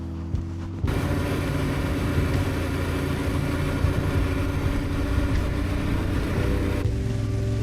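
Motorcycle engine running steadily at night in a quiet suburban spot with little light, a loud, continuous close rumble that starts abruptly and holds level, with no talking.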